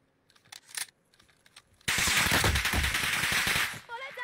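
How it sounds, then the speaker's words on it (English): Rapid video-game gunfire bursts out loud and dense, sustained for about two seconds after quieter scattered clicks and movement, then drops away. "Bullets everywhere!"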